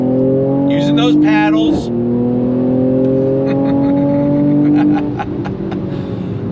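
A 2023 Mercedes-AMG C43 engine revs hard under acceleration, its steady rising drone climbing smoothly with a brief dip at a shift, loud and close from inside the cabin while someone talks over it.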